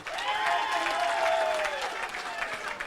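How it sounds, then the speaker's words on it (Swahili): A crowd at a Kenyan political rally breaks into applause, a dense burst of clapping that swells and then tapers over a few seconds, with faint voices mixed in. "Tuwapigie makofi."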